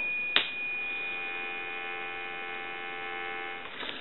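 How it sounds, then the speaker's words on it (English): A steady dial tone from a Kellogg Redbar rotary wall telephone hums continuously after a brief click, an unwavering buzz-like tone with no voices, ending with another small click. "Give you some dial tone."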